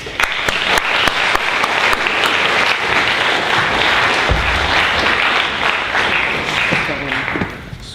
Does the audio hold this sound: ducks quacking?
no